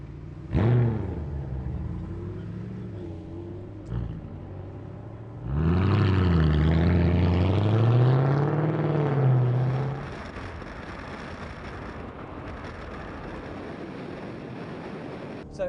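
A Mercedes SLS GT1 race car howls through a hot lap at the Navarra circuit, the engine rising and falling in pitch as it accelerates and shifts, loud and close, then dropping to a rougher rumble with wind noise.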